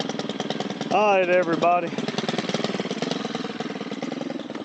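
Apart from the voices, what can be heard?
2-stroke gasoline weed eater engine running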